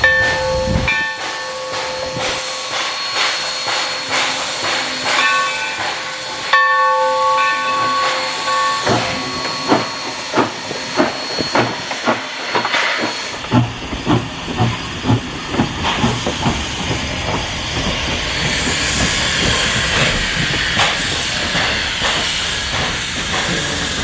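Steam locomotive 3025 on the historic Valley Railroad pulls forward with loud, sustained steam hissing, a whistle-like tonal blast early on and a steady run of rhythmic exhaust chuffs building up, heard close with no talking.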